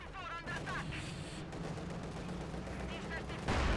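Gunfire from a Company of Heroes 2 battle in which a sniper's first shot misses, with dense crackling shots and explosions rumbling under continuous excited commentary.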